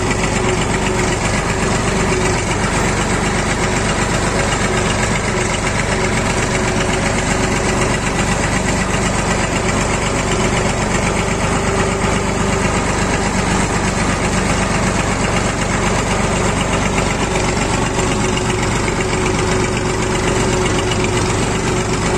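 A Massey Ferguson tractor engine runs loud and steady, a continuous close diesel drone with no talk.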